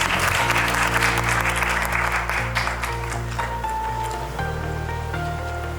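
An audience at a Lions Club event breaks into loud, sustained applause, a dense wash of clapping that carries on throughout and slowly fades toward the end.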